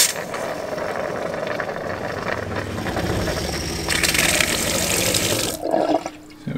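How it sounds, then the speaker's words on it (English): A camper's electric water pump priming as it draws from a water jug through hoses, a steady mechanical whir and rattle with gurgling water and sputtering air, rising into a hissing rush near the end. "Now we can press the one for the pump. It's just priming."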